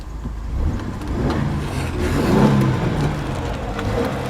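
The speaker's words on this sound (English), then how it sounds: "here's how it starts up now with that new fuel pump" A Ford Taurus fitted with a new fuel pump runs at a smooth, quiet idle, a steady low engine hum close by with faint mechanical whir and no speech.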